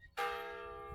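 An automatic church bell strikes once, a clear ringing tone that starts sharply and decays slowly.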